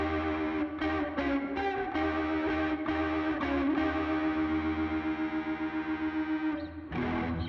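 Electric guitar played through a distortion effect on a Line 6 POD Go wireless setup on stage, loud sustained chords with chorus-like shimmer and short pauses between strums, no talking.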